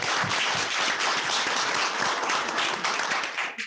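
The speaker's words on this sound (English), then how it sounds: "So please give them a round of applause." Applause from the audience at a county commissioners' court meeting, a steady wash of many hands clapping that fills the room for several seconds before tapering off at the end.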